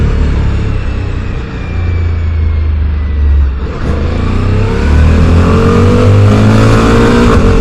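Suzuki V-Strom 1050 DE motorcycle pulling hard in first gear through town, a loud steady engine drone rising in pitch across several seconds with a brief dip midway before climbing again, close and continuous.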